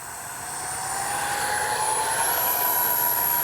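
An X-Fly 40mm F-15 RC jet spools up for another takeoff, its steady turbine whine climbing slowly in pitch and swelling a little louder over a constant rushing roar.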